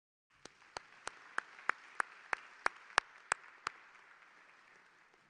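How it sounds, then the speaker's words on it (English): A commencement audience at an SIUE fall graduation ceremony claps in a steady, evenly spaced rhythm of about a dozen sharp claps, faint and distant in a large hall. "Let's give them a hand."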